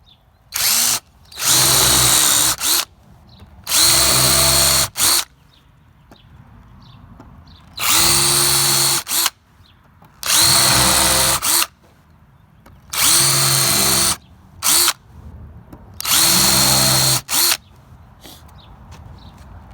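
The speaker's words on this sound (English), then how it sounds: "I'll take the drill and go ahead and drill your holes." A power drill whirs in repeated loud bursts drilling holes in wood for board and batten shutters, about seven short runs separated by brief pauses, close up with no talking.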